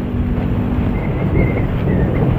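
A motorcycle engine drones steadily as heard from inside an NHK GP1000 Solid Black helmet, a loud continuous low rumble mixed with wind rush, with no voices.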